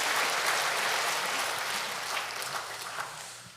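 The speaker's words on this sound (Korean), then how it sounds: "뜨거운 박수 보내주시면 고맙겠습니다" A church congregation applauds during a Sunday service for the choir and orchestra, a steady wash of many hands clapping that holds strong and then gradually thins and softens toward the end.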